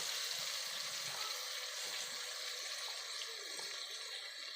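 Meat and jackfruit frying with salt and turmeric in a pan, giving a steady, wet sizzle and bubbling, moderately close, with no talking.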